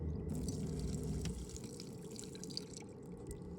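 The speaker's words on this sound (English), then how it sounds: "The handle on the faucet is removed for fear of the dog turning on the water while nobody's home, so it's operated with this switch." Water running from a bar sink faucet in a converted 2017 Ram Promaster van, a steady close splashing stream that drops slightly in level partway through, with no voices.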